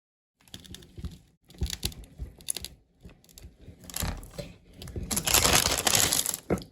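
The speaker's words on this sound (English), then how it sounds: "now I'll put it on the baking tray and get one of these and stamp it" Cookie dough pressed with a Nordic Ware cookie stamp on a baking tray, a series of close, uneven thuds, taps and crinkling presses, growing louder and denser toward the end.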